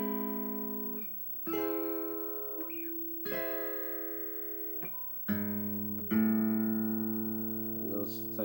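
Guitar picking the intro chords of a song, several ringing chords struck one after another with clear note attacks and sustained decay, close and unaccompanied.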